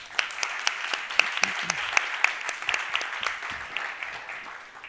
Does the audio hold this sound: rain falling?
no